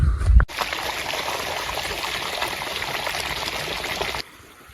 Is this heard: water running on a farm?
yes